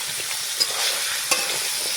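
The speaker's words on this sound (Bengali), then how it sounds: "দেখো, কুমড়োটা আমি ঢেলে দিয়েছি।" Pumpkin frying in hot oil with black cumin seeds, a dense, even sizzle that carries on throughout, with two faint clicks of stirring and no speech.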